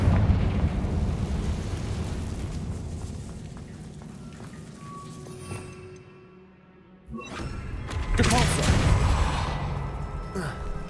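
Confringo, a blasting spell in Hogwarts Legacy, goes off with a rumbling blast, fades into a brief lull, then erupts into a second loud burst and a long roar of debris.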